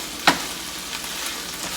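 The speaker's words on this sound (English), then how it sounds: "And then we're going to stir it all up." Vegetarian meat substitute being stirred in a frying pan, a sharp scrape of the spoon followed by steady low sizzling and faint clinks, with no talking.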